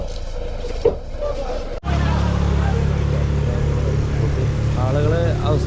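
A motorboat on Ashtamudi Lake in Kollam runs with a loud, steady low engine drone, preceded by a short stretch of talking, with voices continuing faintly over the motor.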